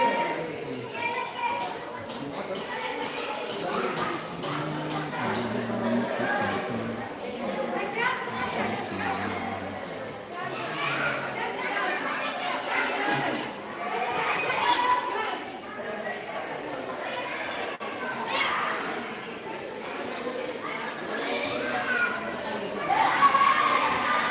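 Large festival crowd packed into the Shri Mahalakshmi temple grounds at Shirsav during Navratri: a steady wash of overlapping chatter with children shouting and playing, busy and continuous throughout.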